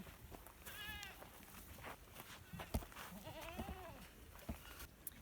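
Goats bleat in a homestead paddock in North Idaho. Two or three faint, wavering calls rise over a steady outdoor background, with scattered knocks and rustles.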